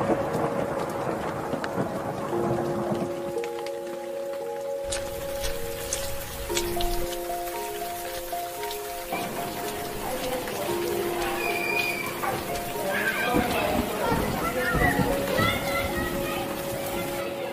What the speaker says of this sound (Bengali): কি যে বৃষ্টি শুরু হয়েছে না স্যার